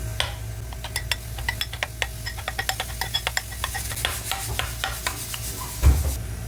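A spoon stirs a salted brinjal yoghurt curry mixture in a bowl, giving a steady run of light, close clinks and scrapes with no talking.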